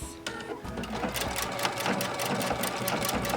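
A sewing machine stitches ribbon in a rapid, steady run of needle strokes, loud and close, with no talking over it.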